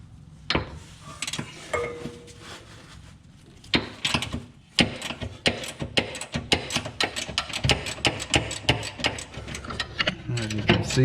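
Socket wrench ratcheting a bolt on an Acura TSX during a camber arm install in a tight space: rapid close clicking bursts with pauses, growing faster and denser toward the end.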